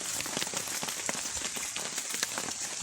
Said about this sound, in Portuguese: Tá dando uma chuvinha aqui.